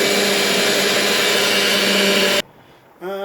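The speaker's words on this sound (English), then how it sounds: "the NutriBullet" A NutriBullet blender whirs loudly and steadily as it blends lumpy Japanese curry sauce, then cuts off abruptly, leaving a quiet pause before a brief tonal hum.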